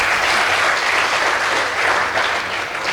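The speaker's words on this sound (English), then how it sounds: "Give them a round of applause as well." A crowd claps steadily and loudly throughout at a school competition, dense applause with no voices standing out.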